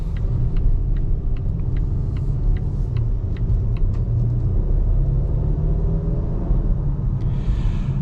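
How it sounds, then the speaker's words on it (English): Inside a 2025 Volvo XC40 with a turbocharged inline four, a loud, steady engine and road rumble holds through a highway on-ramp style acceleration on New England back roads, with faint ticking in the cabin. "turbocharged inline 4 performs with a kind of simulated on-ramp, highway on-ramp acceleration"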